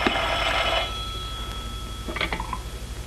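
An old-style telephone bell ringing in a 1932 film scene, one bright metallic ring that stops, then a few short clicks and rattles, under a hissy, scratchy soundtrack.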